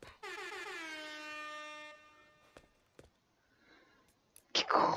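A loud air horn emote from the Fortnite video game blares once for nearly two seconds, then falls silent apart from a few faint clicks and a short burst of noise at the end.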